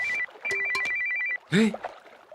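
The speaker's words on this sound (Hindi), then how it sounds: "ये फोन तेरी निशा का ही होगा।" A phone rings with a repeating electronic tone in two bursts, followed by a short louder chime, fairly close and clear.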